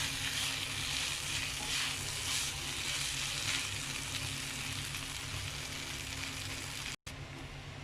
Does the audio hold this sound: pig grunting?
no